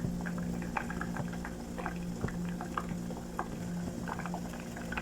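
Burger pancake batter sizzles and bubbles steadily in a hot pan, a continuous close frying hiss with scattered small pops and spatters, no talking.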